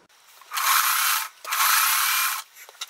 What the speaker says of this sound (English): I'm going to take these 2 pieces and sew those together.